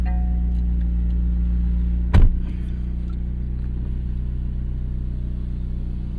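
Low, steady engine drone from a 2025 McLaren 750S with a twin-turbo V8, heard from inside the cabin while driving, with a single sharp knock partway through and no clear rev rise.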